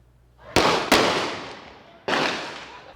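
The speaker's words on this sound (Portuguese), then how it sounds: "Flagrante de tiroteio em Vila Velha." Gunfire during a shootout in Vila Velha: three sharp cracks heard at some distance, the first two close together and the third after a pause, each ringing out with a long echoing decay.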